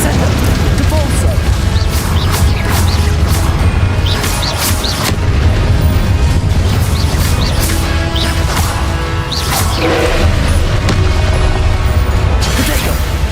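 Descendo and Depulso spell effects in Hogwarts Legacy land as repeated booms, crashes and sharp bursts over a constant heavy low rumble, loud and busy, with a voice talking over the action.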